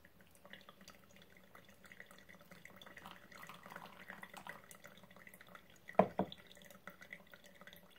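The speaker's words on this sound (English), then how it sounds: "So I'm pouring it into a mason jar." Coffee being poured into a mason jar from a pour-over setup, heard as a faint steady liquid trickle under low room noise, with a brief louder splash or clink near the end.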